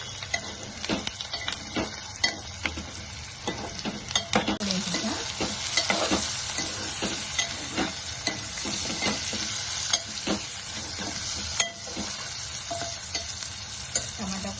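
Eggs fry in a pan of curry with yam, a steady close sizzle and crackle running throughout, punctuated by frequent sharp clicks and taps of a utensil against the pan.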